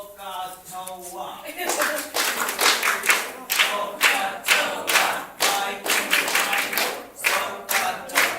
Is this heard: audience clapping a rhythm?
yes